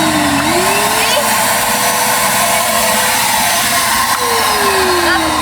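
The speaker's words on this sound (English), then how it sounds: "It clogged the vacuum." Vacuum cleaner used while rebuilding a 310 aircraft runs steadily after being clogged by a mouse nest, a loud constant whine with pitch shifts near the start and end.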